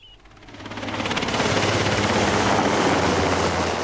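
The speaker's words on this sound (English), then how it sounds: "Within 2 minutes, the first helicopter was overhead, taking a closer look at us." An army helicopter in 1980s Northern Ireland passes overhead, its rotor thudding in a rapid rhythmic chop that swells from moderate to loud within the first second and a half and stays close and strong.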